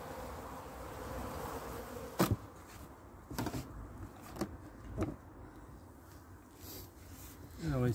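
Honeybees in a winter colony buzz faintly and steadily during an oxalic acid treatment against varroa. A few sharp knocks and clicks from handling the hive cut through the drone, and a voice speaks softly at times.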